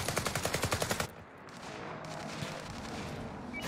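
Rapid automatic gunfire in Call of Duty Warzone on Rebirth Island: a fast, even burst of about a dozen loud shots, followed by quieter scattered distant fire and game ambience.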